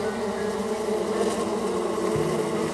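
Bees buzz in the Psychonauts 2 video game, a dense, steady insect hum that stays loud and close throughout, with a slight pitch shift toward the end and no voices.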